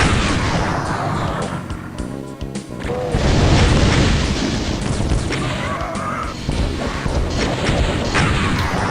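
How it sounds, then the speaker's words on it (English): Rocket explosions in the shooter Doom, on Valiant map10 Candlecove, come as loud, dense, overlapping booms and blasts that run nearly without pause throughout, with no voices. "I'm just willing to completely blow through all my rockets"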